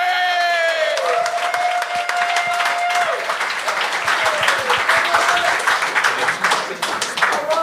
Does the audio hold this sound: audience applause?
yes